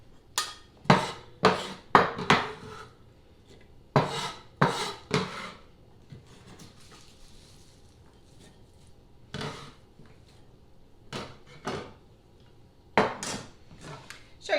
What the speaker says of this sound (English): You just grate this like that.